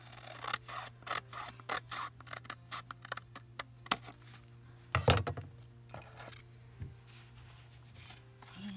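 Scissors snipping napkin paper for junk journal embellishments, a quiet, close series of short crisp cuts in an irregular rhythm, with one louder snip midway.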